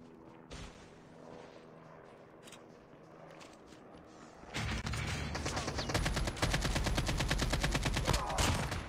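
Gunfire in the mobile shooter Call of Duty Mobile: scattered shots early, then from the midpoint a loud, sustained stretch of rapid automatic fire with dense repeated bursts.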